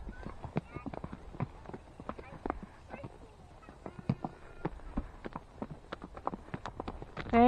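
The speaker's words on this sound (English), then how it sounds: "Horses!" Steady clip-clop of hooves from several walking horses on a trail ride in Austin, Texas, an irregular overlapping rhythm nearby, with a brief whinny near the end.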